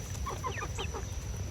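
Several backyard chickens cluck and chirp in short bursts close by, fed on a Grubterra grub treat, over a low steady hum.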